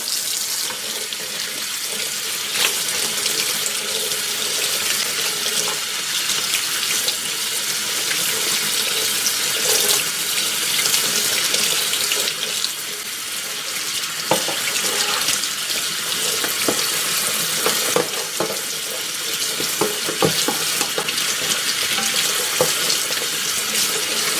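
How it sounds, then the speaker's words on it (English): Tap water runs steadily into a sink while a freshly caught crab is rinsed and cleaned under the faucet, a continuous close splashing with small clatters and shifts in the flow. "just clean it out under the faucet now"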